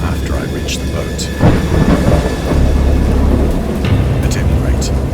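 A thunderstorm rages in the cosmic horror game Dagon, with loud rolling thunder over steady heavy rain, as a narrator's voice speaks over the storm.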